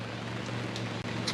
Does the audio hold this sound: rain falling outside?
yes